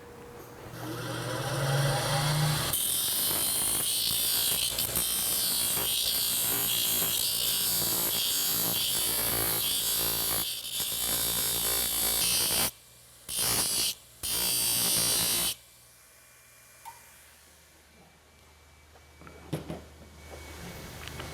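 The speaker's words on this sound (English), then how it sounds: "I'm going to clean it up with my grinder" An angle grinder cleans up a double nail pad for a lame horse's hoof, a loud continuous whine for about thirteen seconds, then cutting out in short bursts before falling quiet with faint background noise.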